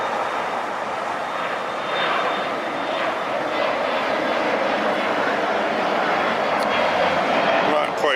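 An aircraft lifts off from a runway at LAX, a broad steady jet roar filling the air at moderate distance, unchanging in level throughout.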